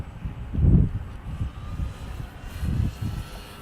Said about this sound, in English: Plane took off in about, I'd say about 8, no more than 10 feet.